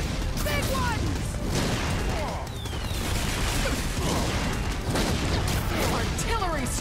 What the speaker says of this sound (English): I need explosions, Bazooka Doomlander! Big ones!